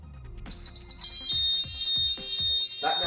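Fire alarm sounder in a block of flats in full evacuation mode, a loud steady electronic tone with high harmonics sounding continuously, joined by a repeated low pulsing pattern.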